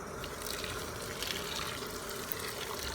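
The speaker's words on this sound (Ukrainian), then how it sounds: "Для початку кропиву залю окропом" Boiling water is poured over fresh nettles, a soft continuous gush and splash of liquid, fairly quiet and steady throughout with no voices.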